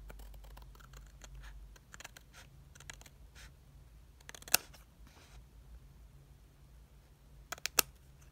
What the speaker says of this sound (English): I'm going to cut that off just to trim it off